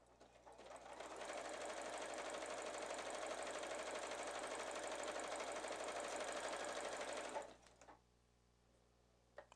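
A sewing machine stitches a girls' square neck sundress in one continuous, steady run of whirring lasting several seconds, then stops, leaving near silence. No one speaks.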